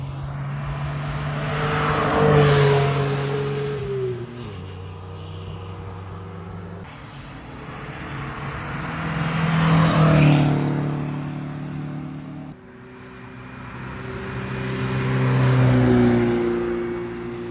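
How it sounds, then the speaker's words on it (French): A front-engined Porsche revs hard three times, each rise and fall of pitch surging loudly and then dropping back, with no talk over it. "Ça, j'adore ça. Les Porsche à moteur avant."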